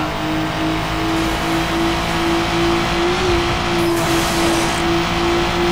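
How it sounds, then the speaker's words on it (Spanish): A steady, high-pitched Nissan 350Z engine in the video game Need for Speed Underground 2 drones at constant revs with a faint whine, close and continuous, with slight tire noise underneath. "este sí suena a un Nissan 350Z"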